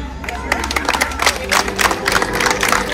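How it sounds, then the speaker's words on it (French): Outdoor crowd on a town square at a guinguette festival in Lorient applauding a performing troupe, dense clapping mixed with crowd murmur and occasional calls, lively and fairly loud. "On peut les applaudir."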